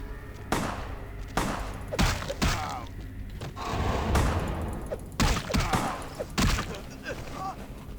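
Shotgun blasts in Vampire the Masquerade Bloodlines, about eight heavy booming shots spaced irregularly, each cutting sharply through the mix with echoing tails, a voice talking faintly between them.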